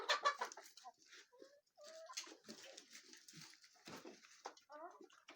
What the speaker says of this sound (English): maybe my coop's not big enough for 30 chickens